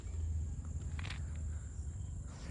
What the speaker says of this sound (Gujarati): થોડું થોડું અંધારું થઈ ગયું છે અને અહીંયા તમરા બોલે